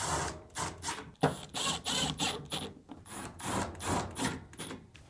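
Screws fastening a lint duct on a Samsung dryer during blower housing replacement make a string of short whirring, grinding bursts with brief pauses between them, close and fairly quiet.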